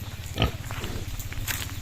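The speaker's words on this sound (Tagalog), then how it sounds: "Mga baboy natin." Pigs grunt close by, with one loud squealing grunt early on over a steady low droning hum.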